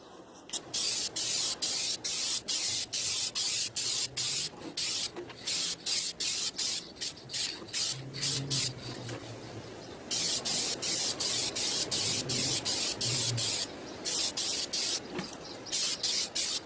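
Duplicolor spray paint hisses onto an acoustic guitar in many short, loud, close bursts with brief pauses between them, plus one longer continuous spray in the middle.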